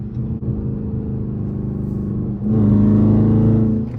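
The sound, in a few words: loud V8 car exhaust revving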